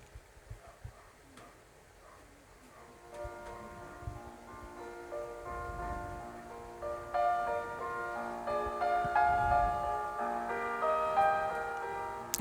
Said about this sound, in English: for those people who don't know what Ave Maria sounds, I'll play it for you.